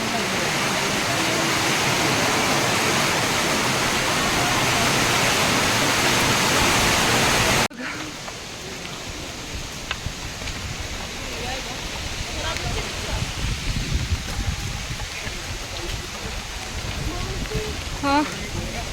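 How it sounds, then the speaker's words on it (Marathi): Sudden heavy rain pours at Kedarnath: a loud, steady, dense roar of rainfall fills the first half, then drops abruptly to a quieter wet background with scattered drips and small knocks. "खूप मोठ्या प्रमाणात पाऊस आहे."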